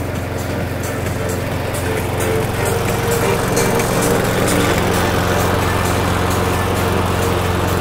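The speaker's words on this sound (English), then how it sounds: "you can hear that the mower is nearly equally loud" A lawn mower engine drones steadily and loudly throughout, a constant near rumble with a Bluetooth speaker playing beside it, the music barely standing out against the engine.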